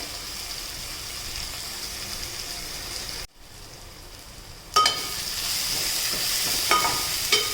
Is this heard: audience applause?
no